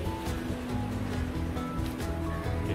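Indrawati river flowing near its confluence with the Sunkoshi in Nepal, a steady broadband rushing of water with a constant low roar, continuous and fairly loud with no voices over it.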